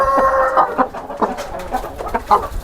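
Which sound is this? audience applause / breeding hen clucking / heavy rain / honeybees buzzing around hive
breeding hen clucking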